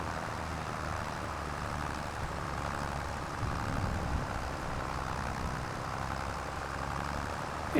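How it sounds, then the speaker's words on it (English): A tractor engine pulls a seeder uphill in the Farming Simulator 25 video game, giving a steady, moderate, low rumbling drone that holds level for several seconds with a slight swell midway and no speech. "this tractor is doing okay"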